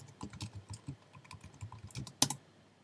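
Keys clatter on a computer keyboard as a command prompt command is typed, a quick uneven run of close clicks ending in a louder key strike, with no talking.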